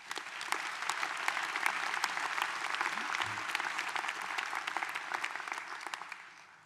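An audience at a university graduation ceremony gives a round of applause, a steady, even wash of many hands clapping at a moderate distance, sustained throughout and fading out at the end.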